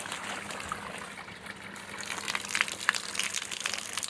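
Water gushing and spraying with a steady hiss, growing a little louder and splashier toward the end, with a low hum underneath.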